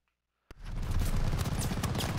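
Sustained heavy gunfire from many players shooting through a barrel in the shooter Call of Duty Vanguard, hardcore mode, bursting in abruptly after near silence and continuing as a dense, loud, close barrage of overlapping shots.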